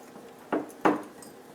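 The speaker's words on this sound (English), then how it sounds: "we just want to take this and mix it up into our butter really well" Two quick scraping clinks of a utensil against a bowl as sugar is worked into butter, close and fairly soft over faint room noise.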